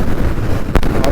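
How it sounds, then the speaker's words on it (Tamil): Strong wind buffets the microphone with a loud, rough rumble, broken by brief gusty bursts, while riding a Husqvarna Svartpilen 250 motorcycle near Kanyakumari. "அவ்வளோ காற்றடிக்குது."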